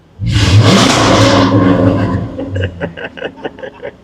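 A loud Jaguar F-Type sports car engine roars in a sustained rev for about two seconds, then settles into sputtering, popping bursts as it drops back.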